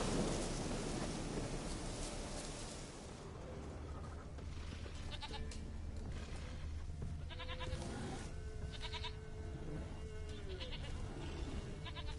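Goat bleating in The Witcher 3, several short wavering bleats at a moderate distance over rumbling thunder and ambient game noise.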